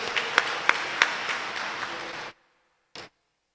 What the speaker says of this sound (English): Can we have a great big round of applause for them,